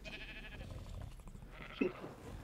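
Sheep bleat faintly in the ARK video game, with a short, slightly louder cry standing out over a steady, quiet background.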